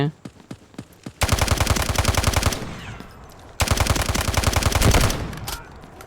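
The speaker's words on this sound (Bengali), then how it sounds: "সামনে ফায়ার চলছে কিন্তু কোথায় ফায়ার চলছে বোঝা যাচ্ছে না" Automatic gunfire in a hot zone mode video game match, with a few separate shots followed by two long, loud bursts of rapid fire and a short pause between them.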